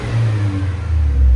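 A 2026 Toyota Tacoma 2.4L turbo four-cylinder fitted with an aftermarket muffler revs in a short, steady burst, with a deep droning exhaust that swells slightly louder toward the end, close by and without voices.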